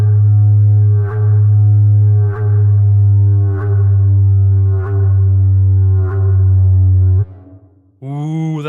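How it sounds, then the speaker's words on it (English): Synthesized didgeridoo made in the Serum synth with a multiplier and reverb: a deep, buzzing drone pulsing in six even, sustained swells, then a brief drop and a rising, wobbling tone at the end. "That is how you do a didgeridoo in the Serum with multiplier."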